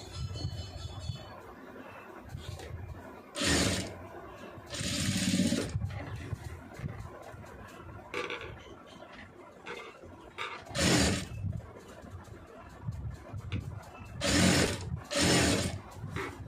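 A sewing machine stitching a star-shaped neckline runs in several loud mechanical bursts of rapid needle chatter, separated by quieter pauses with faint handling noise.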